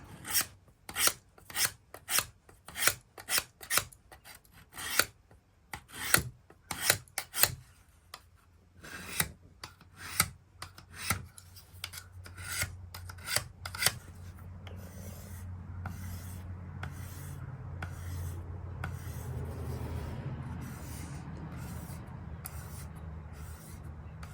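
An HCR14 MOV steel knife blade being sharpened with budget hand tools, a series of close, rhythmic rasping strokes, then a steadier continuous grinding rasp in the second half.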